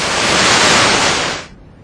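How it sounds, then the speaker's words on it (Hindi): Swollen Bhagirathi river in flood at Uttarkashi during torrential rain, a loud broad roar of surging water that cuts off abruptly near the end. "उफनती लहरें भगवान शिव के मंदिर को निगल जाना चाहती हैं।"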